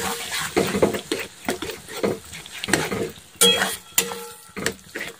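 Egg curry is stirred and fried in a pan in a rural home kitchen, with a spoon scraping and clinking against the metal in uneven strokes over a steady sizzle, close and fairly loud.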